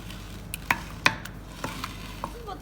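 Dal with garlic and ginger is stirred in a pot, giving a handful of scraping strokes and light clinks spaced irregularly over a soft background, close and fairly quiet.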